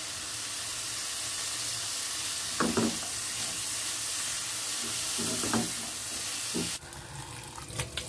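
An egg omelette fries in ghee or butter in a pan with a steady, close sizzling hiss. Scattered scrapes and taps mix in, and the sizzle drops quieter near the end.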